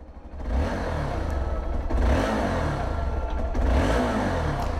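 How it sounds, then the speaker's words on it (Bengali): A Hero Xpulse 200 4V motorcycle engine runs steadily and close, with a continuous low rumble that swells in rev surges about every one to two seconds and carries a light mechanical clatter. No one speaks over it. "সো ইঞ্জিন সাউন্ড তোমরা শুনে নাও একবার।"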